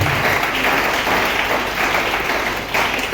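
A church congregation applauds and acclaims the Lord during a worship service, a dense, continuous wash of clapping and crowd noise that holds steady at close range for the whole stretch, with no clear speech.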